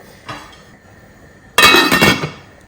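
A cooking pot holding beans and water for rural-style West African waakye is covered with its lid, a single loud metallic clatter and clink after a faint earlier knock, then ringing off.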